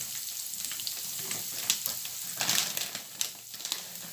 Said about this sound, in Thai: ใส่ลงไป ผัด ใช้ไฟอ่อน